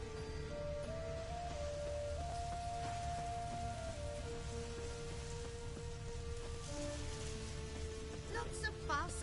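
Steady rain pours in The Witcher 3 as a dense, continuous wash of noise, with a sustained tonal game score drifting above it and no speech throughout.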